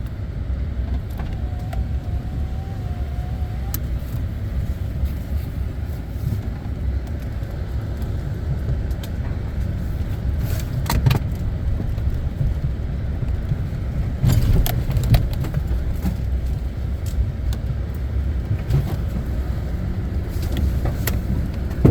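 A vehicle rolls slowly through a cleared wooded area, its low engine rumble steady and close, with occasional knocks and crunches from the ground and brush along the way.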